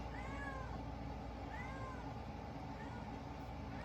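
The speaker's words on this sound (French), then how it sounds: "Elle m'arrête pas de miauler, là." A young kitten meows three times in short, evenly spaced cries, clear but not loud, over a constant low background hum.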